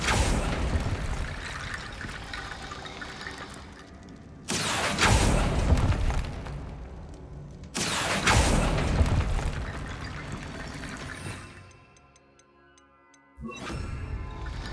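Explosive spell blasts from Hogwarts Legacy: two loud broadband booms with rumbling decay, separated by a few seconds, followed by a quieter stretch of ticking game sounds and a fainter third burst.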